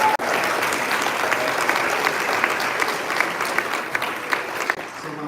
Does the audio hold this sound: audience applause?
yes